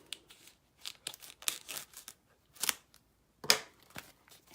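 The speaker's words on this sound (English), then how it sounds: "So I'm just going to take my paper snips here." Paper snips cut open the plastic packaging of a craft kit, giving a string of short crisp snips and crinkles, close and fairly quiet, with no talk.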